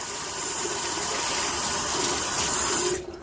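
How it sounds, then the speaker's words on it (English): Tap water runs in a steady loud gush into a sink as hands are washed under it, cutting off abruptly near the end. "I'm gonna wash off my hands."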